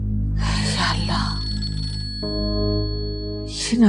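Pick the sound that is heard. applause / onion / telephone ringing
telephone ringing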